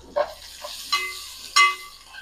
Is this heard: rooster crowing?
no